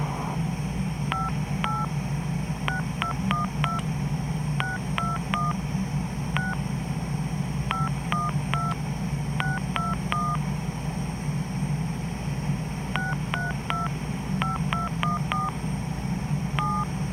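Touch-tone DTMF dialing on a 1A2 key telephone system, with bursts of short beeps in quick irregular runs over a steady hum and line noise, loud and close.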